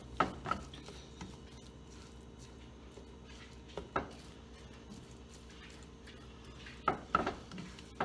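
Beef with onion and garlic being stirred in a pan, a quiet steady sizzle broken by several sharp clinks and scrapes of a utensil against the pan at irregular intervals.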